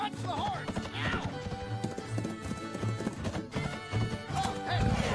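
A film scene in which a horse's hooves clip-clop in fast rhythmic beats, with a brief whinny, under a busy mix of music and effects.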